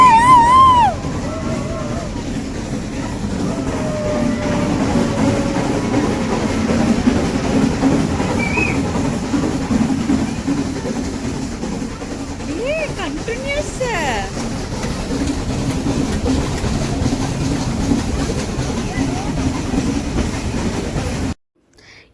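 Ooty's vintage steam toy train on India's only steam-worked section rolls steadily through hill tunnels, a continuous rumble and clatter of rail wagons running throughout, with faint voices and shouts mixed in.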